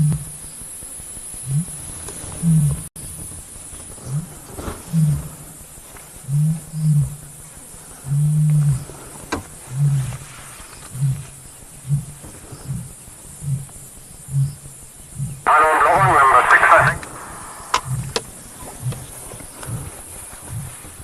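Deep, rhythmic animal roars pulse repeatedly over a steady safari vehicle engine drone, moderately distant, with a brief higher burst of noise partway through.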